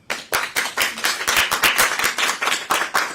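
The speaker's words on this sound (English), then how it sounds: "So let's give them a round of applause." Applause from a small audience at a Maryland press conference on federal unemployment programs, with distinct individual claps forming a steady, fairly close patter for a few seconds.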